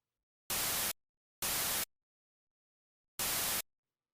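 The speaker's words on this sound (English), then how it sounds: "a sampled white noise does have a pitch" Three short bursts of sampled hissing white noise for a closed hi-hat sound, each about half a second long, separated by silence with an uneven gap before the last.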